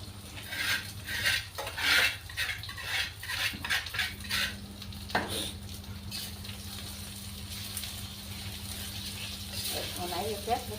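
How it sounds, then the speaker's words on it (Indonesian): Tempe frying in a pan, a soft continuous sizzle with clinks of a utensil stirring and scraping against the pan, close and fairly quiet, with intermittent bursts of louder clattering early on. "goreng tempe."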